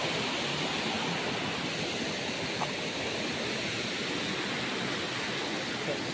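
A waterfall pours in the rain, a dense, steady roar of falling water that stays loud and unbroken throughout, with no voices.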